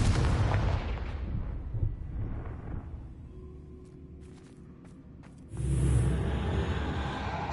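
A loud blasting-spell explosion in Hogwarts Legacy booms and rumbles, then decays over several seconds with faint debris clicks. A second heavy blast follows near the end.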